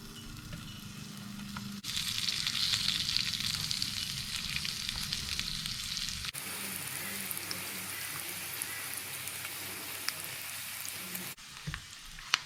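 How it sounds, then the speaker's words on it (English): Pork cheeks fry in a small pan, producing a continuous, fairly soft crackling sizzle like light rain that runs steadily throughout, shifting in texture partway along. "now I'm going to take my pork and just throw it into a little fry pan here"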